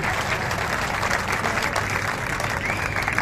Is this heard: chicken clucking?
no